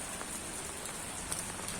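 Steady rain pours down continuously, a dense hiss of drops striking a surface with a few slightly louder patters, with no voices.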